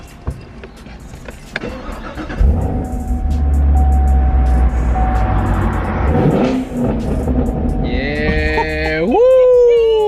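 A 2018 Chevrolet Camaro SS Redline pulls away, its V8 engine rumbling and then revving up loudly in a rising sweep near the end, with a brief voice at the start.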